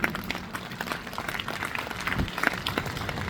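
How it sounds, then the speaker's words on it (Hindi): An audience at RPS Engineering Degree College claps for the college staff, with irregular, fairly quiet clapping rising and falling and a few sharper claps standing out. "एक बार तो स्टाफ के लिए तालियां बनती हैं।"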